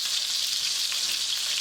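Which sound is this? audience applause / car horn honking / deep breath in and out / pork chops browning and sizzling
pork chops browning and sizzling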